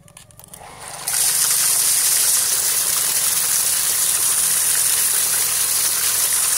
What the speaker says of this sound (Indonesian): langsung saja kita nyalakan